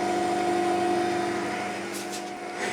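A small rigid lathe taking a 0.5 millimeter cut, a steady whining machine tone with constant hum and a few short bursts of hissy cutting noise toward the end.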